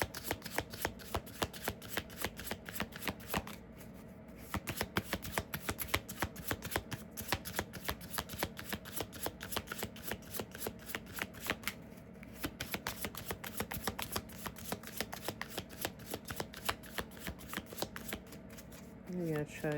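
Cards are riffled and shuffled over and over in rapid rustling bursts, with brief pauses between rounds and talking alongside.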